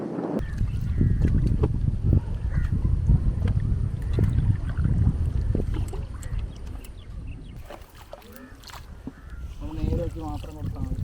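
A small fishing boat on a backwater makes a low, steady rumble with wind noise and lapping water, and someone speaks over it for much of the time.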